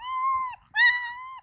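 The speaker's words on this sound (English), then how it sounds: "quite the howl" A puppy about four weeks old gives two drawn-out howls, the first about half a second long and the second after a short gap, thin and tonal, close by with no talking.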